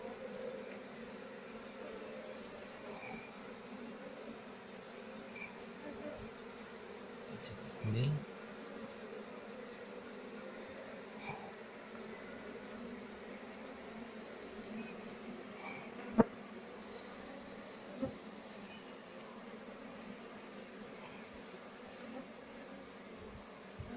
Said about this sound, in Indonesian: Koloni lebahnya ini masih kecil atau sedikit.